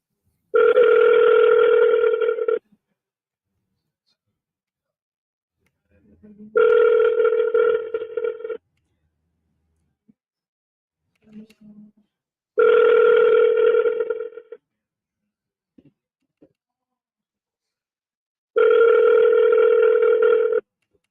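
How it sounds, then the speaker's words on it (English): A telephone ringback tone sounds during a redialed, unanswered call, four evenly spaced two-second rings separated by long silent gaps, clear and close. "We're gonna redial because no pickup."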